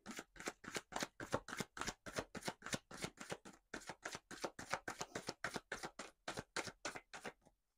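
A deck of tarot cards shuffled in a steady, quick rhythm: about twenty crisp riffling flicks close up. The shuffling pauses briefly midway and stops at the end, and no one speaks.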